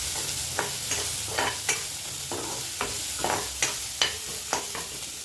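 Onions for an egg curry sizzle in a pan, a low even frying hiss punctuated by a dozen or so sharp scrapes and clinks of a spoon stirring them, close up, with no talking.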